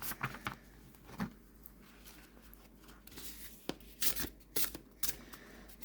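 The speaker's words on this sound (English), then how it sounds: "So let's see how these shuffle." A deck of large oracle cards is shuffled by hand close up, giving irregular soft riffles, slaps and flicks in quick bursts against a quiet room.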